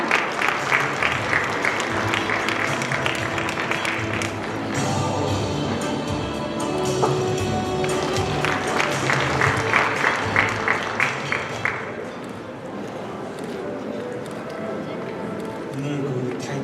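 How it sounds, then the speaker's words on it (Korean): An audience at the opening ceremony of a Sejong city vacant-shop fair claps steadily for about sixteen seconds, a dense, sustained round of applause that welcomes the administration head to the podium, with a low background hum underneath. "큰 박수로 다시 한번 맞이해 주시기 바랍니다"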